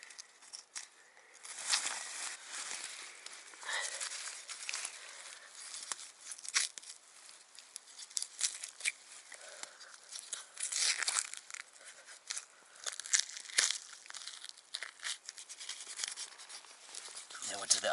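A knife slices through tendon and fur while a game animal's hind leg is taken off at the hip socket, giving close, soft tearing and crinkling scrapes in irregular bursts.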